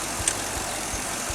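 A 2010 Chevrolet Camaro SS V8 engine idles steadily with a low, even rumble and regular pulsing beats beneath a broad hiss, heard up close with no talk.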